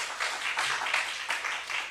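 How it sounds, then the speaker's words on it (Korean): A church congregation at a revival service claps together in sustained, dense applause, steady and close with no voices over it. "하나님께 먼저 영광의 박수 돌립니다"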